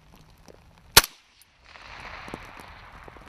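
A single sharp shot from an M110 semi-automatic sniper rifle on a range, short loud crack followed by brief quiet, then a wash of outdoor noise.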